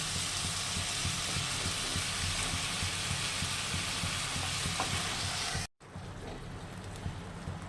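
Spice paste sizzling in oil for a banana flower and prawn dish, a loud, close, steady frying hiss with stirring that cuts off abruptly, then quieter sizzling resumes.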